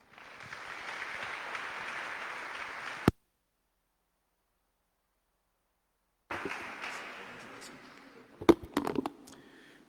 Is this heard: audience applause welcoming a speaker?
yes